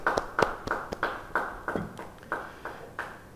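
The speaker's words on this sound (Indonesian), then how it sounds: "Yang percaya, beri tepuk tangan buat Tuhan." Church congregation clapping hands during a Bible study service, heard as a sparse series of sharp, distinct claps at an uneven rhythm, fairly close and moderately loud with no talk over them.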